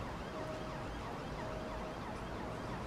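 In a train simulator game, a faint, distant police car siren wails in short repeated tones over a steady low rumble of engine or road noise.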